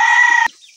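A single loud, close chicken call rings out as a short sustained cry on a farm, then cuts off abruptly into quiet.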